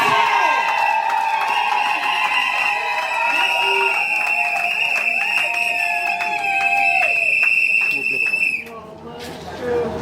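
Applause and cheering at a civil wedding ceremony in Kinshasa: guests clap and shout over sustained high-pitched whoops or ululation, and the noise cuts off sharply near the end.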